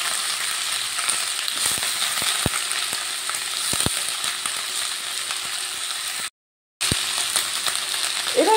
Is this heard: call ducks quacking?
no